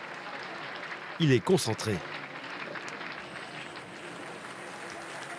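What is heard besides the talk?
theatre audience applauding before acrobatics show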